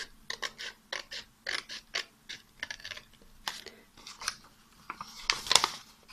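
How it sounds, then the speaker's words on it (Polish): Scissors snipping through origami paper while a gift bow is made, a quick run of crisp, close blade clicks and rustling cuts in a steady rhythm, ending with a louder crunchy snip. "bierzemy nożyczki i przecinamy"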